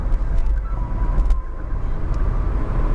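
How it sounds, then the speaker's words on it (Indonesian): A Honda City Hatchback RS with a CVT revs at high RPM, giving a steady, loud engine drone with road rumble from inside the car and no gear shifts. "mobil ini langsung ngasih suara mesin yang gerung, kencang di RPM tinggi dan nahan"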